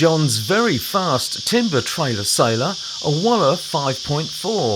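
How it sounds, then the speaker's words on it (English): Cicadas drone loudly and steadily at a lakeside dinghy-cruising campsite, a continuous high buzz running beneath someone talking nearby throughout. "And if you're wondering what that noise is, cicadas, they're really loud here."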